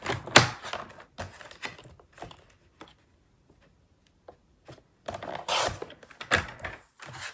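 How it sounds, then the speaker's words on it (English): Cardstock being trimmed for handmade cards, with bursts of cutting and sliding strokes in two clusters separated by a quieter stretch of soft ticks and taps, close and moderately loud. "So I'm going to cut the cardstock to."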